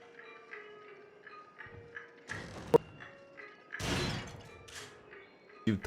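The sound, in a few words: door opening in the video game Until Dawn: Rush of Blood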